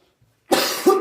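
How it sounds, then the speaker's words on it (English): A short burst of coughing after a half-second of silence: one harsh cough followed quickly by a second, close and loud. "I've been coughing a lot"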